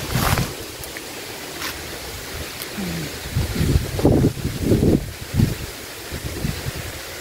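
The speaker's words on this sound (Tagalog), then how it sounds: "Ay, grabe yung hangin." Strong wind outdoors in a rural sweet potato garden, gusts buffeting the microphone in rumbling low bursts of varying strength, loud and close, with no talking.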